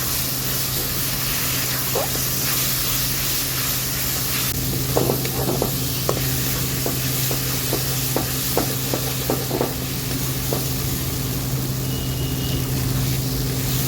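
Spice paste and sour yogurt being sautéed in a pan for Bengali-style veg paneer paturi, a steady broad sizzle with a row of short scraping stirs in the middle, near and without talk.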